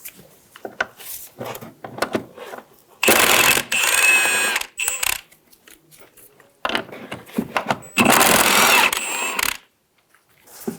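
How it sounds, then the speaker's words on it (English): Rapid ratcheting bursts from a 14mm socket wrench loosening rear shock bolts on a 2011-2014 Hyundai Sonata, two long loud runs separated by shorter clicks and quiet pauses, close up. "Using a 14mm socket, remove the 2 bolts at the top"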